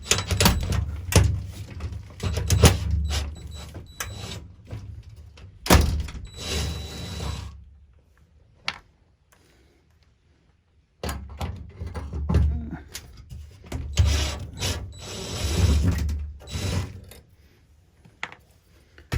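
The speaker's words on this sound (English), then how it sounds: "And then I got to go ahead and remove these screws." Screws being removed from a storm door closer piston: close metallic clicks, ratcheting and clinks in uneven bursts with a short quiet pause midway.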